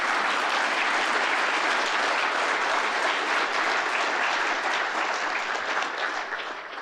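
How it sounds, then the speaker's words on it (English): An audience at a Medal of Honor recipients event gives dense, sustained applause for the sponsors, holding steady before tapering slightly at the end. "Please, a round of applause for all our sponsors."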